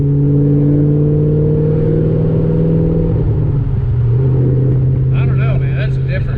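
Cammed Ford GT500 fitted with a Borla exhaust, a deep, steady, loud engine drone that shifts pitch midway as the revs change, heard up close with a voice briefly joining near the end.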